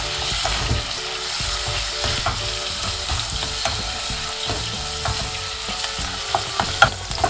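Radish and shiitake mushrooms stir-fried in a pan, a loud continuous sizzle broken up by scraping and clinking from a spatula being worked through the food.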